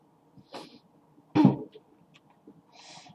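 A single sharp cough stands out near the middle, with a couple of softer breathy sounds around it in an otherwise quiet room.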